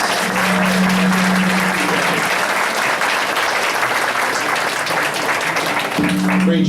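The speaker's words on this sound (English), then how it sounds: "Let's give one more round of applause for these poet laureates." Loud, dense applause from a board of education meeting audience for a group of poet laureates, continuous clapping throughout with a speaking voice audible at the start and again near the end.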